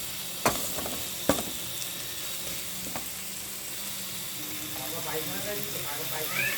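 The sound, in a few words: spices being sautéed and stirred for mutton curry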